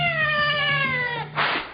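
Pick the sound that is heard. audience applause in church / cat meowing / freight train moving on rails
cat meowing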